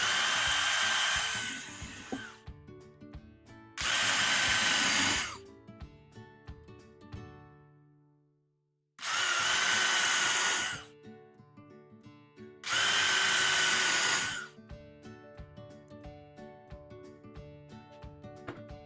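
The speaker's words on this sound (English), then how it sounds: "I pre-drill these holes." A power drill whines through wood in four loud bursts of a few seconds each, pre-drilling holes for barstool assembly, with quieter handling noises and pauses between them.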